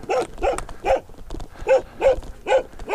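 Two large dogs on a mountain trail, one black and rottweiler-like, bark repeatedly at close range in a steady run of loud, evenly spaced barks with no talk over them.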